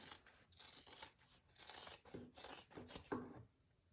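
Scissors snip and rasp through fabric while trimming a bowler bag, a quiet run of about seven quick, close cuts in an uneven rhythm, with no voices.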